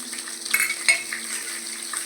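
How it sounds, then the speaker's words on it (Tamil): Onion, green chilli and mustard seeds sautéing in a pan for a pumpkin kootu, a soft steady sizzle with a couple of brief spatula scrapes against the pan, no talking. "நல்லா வதக்கிக்கலாம் வெங்காயம் பச்சை மிளகாய் நல்லா வதங்கி வந்துருச்சு பாருங்க"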